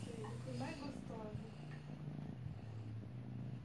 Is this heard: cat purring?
yes